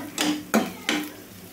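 Ginger garlic paste and spices fry in a pan for an egg masala curry, with three scraping stirs over a steady low sizzle, close and distinct, and no voices.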